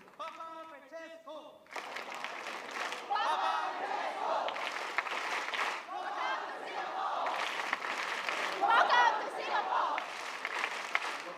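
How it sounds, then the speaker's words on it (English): A young crowd at an interreligious youth gathering in Singapore cheers for Pope Francis, a loud, sustained roar of voices with clapping that swells after a brief spoken lead-in. "Shall we do one more cheer with the Papa Francesco?"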